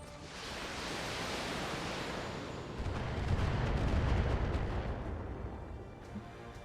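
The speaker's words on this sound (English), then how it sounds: "Those AoE missiles are going to be a problem." Area-of-effect missiles exploding in a video game, heard as a continuous dense rumbling roar of blasts that swells louder midway and then holds, with no talk.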